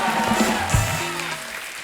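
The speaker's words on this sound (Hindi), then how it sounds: "जोरदार तालियां बस्सी और रणबीर भाई के लिए" A studio audience on a comedy talk show claps for arriving guests, a steady, even wash of moderate applause with no voices over it.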